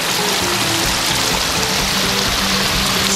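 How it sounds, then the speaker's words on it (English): Waterfall in a snowy setting beside a lake, a loud, steady, close rushing roar of falling water with no breaks. "Last set of waterfalls."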